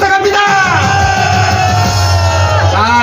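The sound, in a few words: crowd applauding and cheering at a rally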